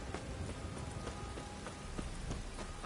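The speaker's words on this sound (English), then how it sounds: "A storm, damn it." In The Witcher 3, rain falls during a storm as a dense, even patter with scattered sharper drops on surfaces, steady and moderately loud, with no voices.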